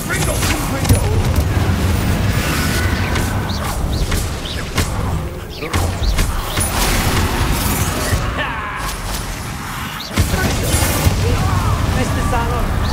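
Confringo blasting spells cast in Hogwarts Legacy during a fight, booming bursts and crashing impacts recurring throughout under dense game noise and voices.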